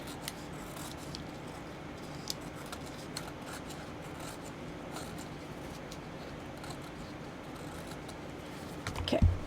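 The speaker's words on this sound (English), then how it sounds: "Trim off the excess again." Scissors snip steadily through the excess paper of a junk mail envelope during a craft project, a soft, close series of cuts with faint rubbing of paper, ending in a louder crunch near the close.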